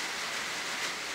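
Steady rain falling outside a workshop whose floor is leaking, a dense even hiss of drops on surfaces with no breaks, fairly quiet and continuous throughout.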